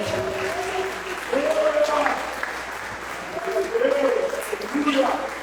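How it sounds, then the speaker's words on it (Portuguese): A church congregation applauds during a worship service, the clapping steady and moderately loud, with voices rising and calling out over it throughout. "Quem pode levantar as nossas mãos e aplaudir o nome do Senhor?"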